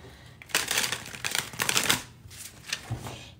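A deck of tarot cards gets a vigorous hand shuffle, with several close, crisp bursts of riffling and flicking card edges in uneven rhythm and brief pauses between them.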